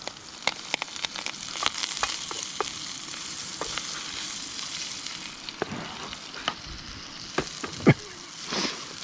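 Potatoes and onions frying in a pan at a motorcycle campsite, a steady crackling sizzle with scattered sharp pops and spits, close and alone.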